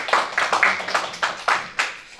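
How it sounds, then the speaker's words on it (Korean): A church congregation claps during an Easter Sunday service, giving about eight brief, separate bursts of applause that fade quickly, with no talking. "큰 박수 한번 해주시기 바랍니다"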